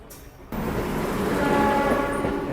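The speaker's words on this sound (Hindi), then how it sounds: "इंस्पेक्शन कार, आईसीएफ का बनाया हुआ परख।" An Indian Railways train is heard on a run out of Khekra station, passing an ICF-built Parakh inspection car. After a short quieter start, a loud, steady rumble of rolling wheels and rail noise sets in and holds close and continuous, with no voices.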